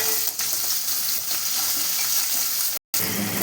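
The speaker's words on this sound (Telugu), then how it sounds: "పచ్చిమిరపకాయలు, ఉల్లిపాయలు వేసి వేయించుకోవాలి" Green chilies and onions fry in a pan with a loud, continuous close sizzle, broken by one brief sharp cut near the end.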